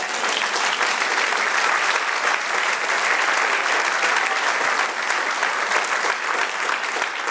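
A church congregation applauding, a dense, even wash of many hands clapping steadily for over seven seconds with no pause.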